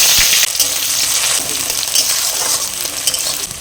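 Chopped onion dropped into hot mustard oil with bay leaf, whole garam masala and cumin, a loud bright sizzle that bursts up then settles into steady crackling frying, with a few stirring knocks, no talk.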